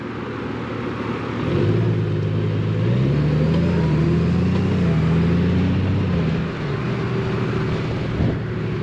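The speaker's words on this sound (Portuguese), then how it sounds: "vou pôr aqui a câmara para filmar aqui um bocadinho uma autobahn alemã sem limite de velocidade" Traffic on a German autobahn with no speed limit, a continuous roar of passing vehicles with engine tones rising and falling as cars approach and pass, fairly loud and close.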